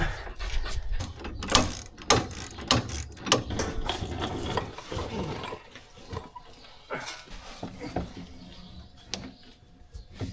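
A wrench ratchets to tighten a part back up during a repair, with quick clicking strokes in repeated close bursts and no talking.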